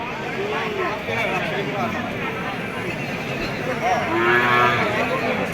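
Cattle low and moo at a busy livestock market, several calls rising over a steady crowd murmur and nearby voices, with a louder, longer moo near the end.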